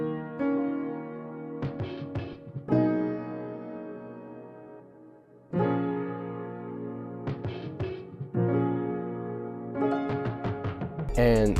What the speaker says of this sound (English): I just chopped up the drum fill and I just added in parts that I thought, you know, could sound cool